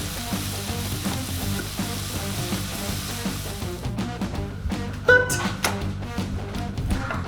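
Al pastor pork with garlic, cumin, chili powder and onion powder sizzles in a very hot pan, a continuous crackling hiss with scattered taps and a louder clatter midway, close up.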